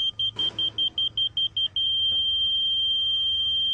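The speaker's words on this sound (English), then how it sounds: "I'm going to adjust the height until I hear an even tone." A high, steady electronic beeping from the laser receiver of a Stabila LAR200 self-leveling rotary laser: short regular pulses that merge into one continuous even tone.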